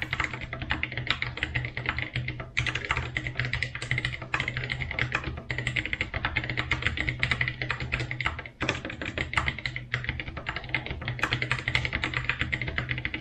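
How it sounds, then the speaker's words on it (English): Rapid, continuous clicky keystrokes rattle away up close, with brief pauses between bursts of typing on a mechanical keyboard. "a typing test is nearly mandatory, so let's have one."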